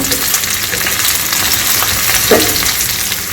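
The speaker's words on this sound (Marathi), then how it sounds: "याला छान परतून घ्यायचं आहे दोन मिनिट" Chopped onions sautéing in a pan for idli and dosa chutney, a loud, dense, continuous frying hiss with faint stirring scrapes, heard alone.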